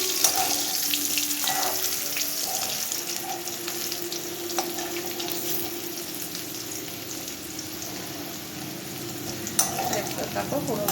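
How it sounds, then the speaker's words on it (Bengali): Potatoes browning in hot oil for chicken curry produce a moderate, even sizzle with soft crackles and a few stirring knocks against the pan, steady from start to finish. "এবার আমি আলুগুলো দিয়ে ভালো করে ভেজে নিচ্ছি"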